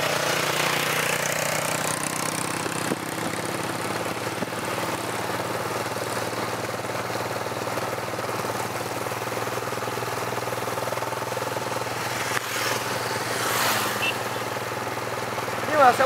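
A motorcycle engine idles steadily nearby with a low, even rumble and faint knocking, while people talk intermittently over it.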